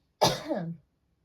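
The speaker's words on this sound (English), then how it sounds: "Oh, I got a cough." A single short, throaty cough, close and fairly loud, followed by silence.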